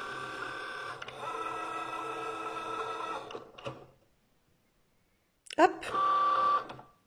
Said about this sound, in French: la Joy va venir tracer votre contour de découpe